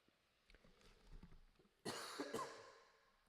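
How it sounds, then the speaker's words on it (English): After a few quiet rustles, a person lets out a burst of harsh coughs, loud and close, trailing off into raspy breath. "I hate coughing."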